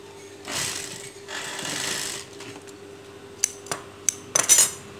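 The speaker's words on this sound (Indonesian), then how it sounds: "ini untuk menjahit badannya, pinggirnya" A sewing machine stitches the side seam of a girl's dress in two steady motorized bursts, followed by quiet clicks and a few sharp metallic taps as the fabric is adjusted.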